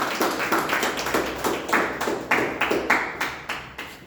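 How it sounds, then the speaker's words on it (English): A room full of Toastmasters club members at an evening meeting clap to welcome a speaker, the applause steady and fairly close, swelling and easing in uneven bursts with no talking over it. "Please put your hands to welcome Toastmaster."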